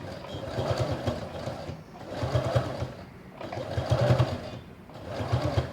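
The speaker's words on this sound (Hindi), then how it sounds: "हम इसको आराम से ऐसे फोल्ड करते जाएंगे, सिलते जाएंगे, फोल्ड करते जाइए, सिलते जाइए" A sewing machine stitches a fabric basket in continuous whirring bursts, running about four times with brief pauses between runs as the fabric is folded, steady and close.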